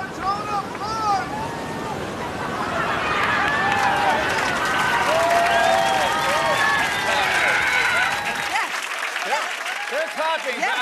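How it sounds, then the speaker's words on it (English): An outdoor crowd at a polar plunge claps and cheers, with excited shouts and chatter over a rushing, splashy background. The noise swells midway and is cut abruptly near the end, leaving only voices. "Clapping, yes"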